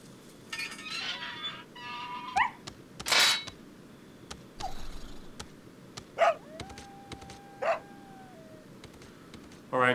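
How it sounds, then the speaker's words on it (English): A dog in Resident Evil 4 whines in several short, high, wavering cries and yips, spaced out over a quiet game background with a few sharp effects in between. "Ah, poor doggy."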